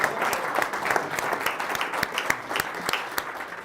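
A small audience claps for host Didier at a gathering, a brief ragged round of distinct hand claps with irregular sharp peaks, close and moderately loud.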